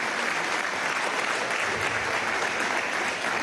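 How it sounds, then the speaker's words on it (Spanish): Loud, sustained applause fills the National Assembly during a pension protection law presentation, a dense unbroken wash of many hands clapping with no speech over it. "que le demos un aplauso"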